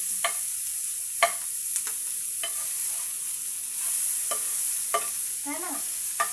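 Fish fries in a pan with onion and garlic, a steady hiss of sizzling oil broken by sharp scrapes and clinks of a stirring spatula at irregular intervals, close and alone.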